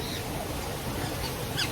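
Birds call at a cruise ship port on a Carnival Mardi Gras trip, a few brief, faint cries rising above steady broadband background noise near the end.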